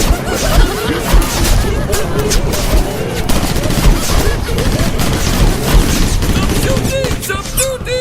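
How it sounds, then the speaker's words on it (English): Rapid bursts of gunfire crackle and bang densely throughout, loud and close, with shouting voices mixed in amid the chaotic shooting. "Stop shooting!"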